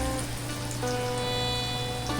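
Coriander leaf pakoras fry in hot oil with a steady, close, crackling sizzle like light rain, heard alone with no talking.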